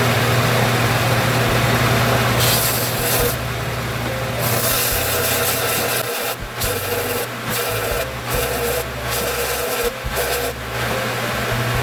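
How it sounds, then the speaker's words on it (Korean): A workshop dust collector runs steadily at close range, a constant loud mechanical drone with low hum throughout, broken by brief sharper bursts of handling noise partway through. "그리고 집진기 지금 돌아가고 있는 상태고요"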